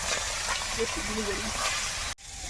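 Small pond-caught tangra fish fry in hot oil in a wok, giving a steady, close hiss of sizzling with a faint voice murmuring underneath and a brief cut near the end.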